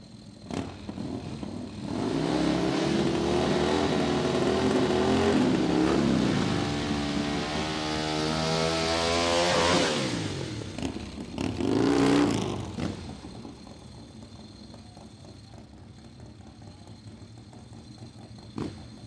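A Ducati drag racing motorcycle launches down a quarter-mile dragstrip, its engine howling loud and rising through sweeping gear changes before fading, followed by a second short burst of revving.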